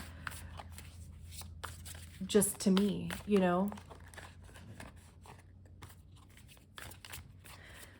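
Soft papery riffles and crinkly tarot card shuffling near the microphone, with a brief stretch of a person talking over it.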